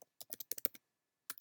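Keys on a computer keyboard clatter as a password is typed, with a quick burst of about eight sharp clicks, a pause, then two more taps, close and crisp in a quiet room.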